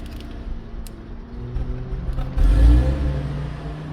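A 2012 Cadillac CTS engine idles steadily at close range, its low hum joined by a brief rise in loudness with some mechanical creaking partway through; no one speaks.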